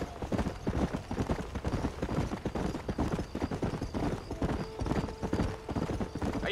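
Horse hooves clip-clopping at a steady, brisk rhythm in the Red Dead Redemption video game, continuous and fairly close, with faint ambient noise around them.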